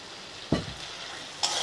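Tomato paste dropped into a pan of frying puiya fish gives a sudden loud burst of sizzle near 0.5 seconds, then a steady hiss of oil and a brief scrape of stirring at the end, with no talk.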